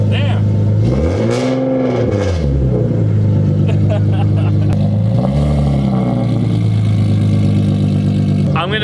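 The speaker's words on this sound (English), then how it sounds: "I'm gonna miss this exhaust so much, man" A Nissan 370Z's aftermarket exhaust revs up and down loudly twice, deep rumbling swells settling into an idle, with a voice briefly heard over it.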